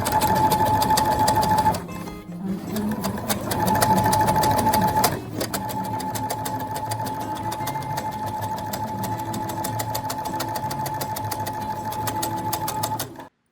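Sewing machine running in steady rapid bursts while top stitching a fabric face mask, its fast mechanical clatter loud and close, pausing briefly near the start before continuing evenly to the end.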